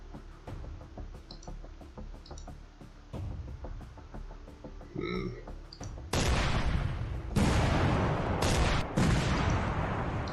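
Units in Command: Modern Operations open fire: scattered distant knocks and thuds first, then loud, dense bursts of gunfire and explosions that arrive in blocks and repeat over several seconds.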